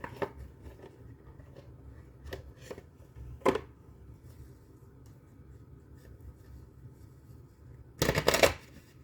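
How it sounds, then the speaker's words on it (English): Crystal Angels oracle cards are shuffled in a quiet room: a few soft riffling bursts at first, then a louder, longer riffle near the end. "Let me get a couple of oracle cards with this one."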